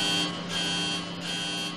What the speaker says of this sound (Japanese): これはボーイング747型機の客室高度警報音を波形分析したものである。